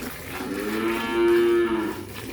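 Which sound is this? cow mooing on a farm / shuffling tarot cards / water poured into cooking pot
cow mooing on a farm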